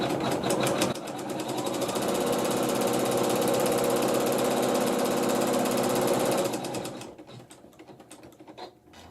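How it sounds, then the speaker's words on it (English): A computerized embroidery sewing machine stitches tack-down stitches on an applique block, a steady close mechanical whirring with rapid needle rhythm running for about six seconds before stopping. "you can sew the tack down stitches"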